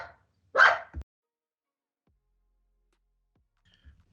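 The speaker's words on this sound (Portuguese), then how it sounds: "Cachorra." A dog barks once, loud and close, with a short yelp just after, and then a long quiet with only a faint knock near the end.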